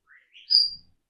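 A pet bird named Merlin gives a brief, faint chirp, a couple of soft rising tweets ending in a sharper whistle-like note, close by and alone.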